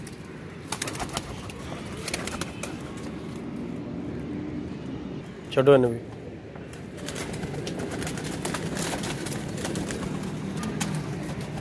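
Pigeons being released from a loft coo softly amid outdoor background noise, with a brief flurry near the middle that may be flapping wings, and a voice speaking briefly.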